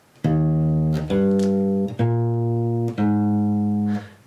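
Walking bass line for the jazz standard Days of Wine and Roses, four sustained, evenly spaced notes stepping one per beat, loud and clear with no voice over it.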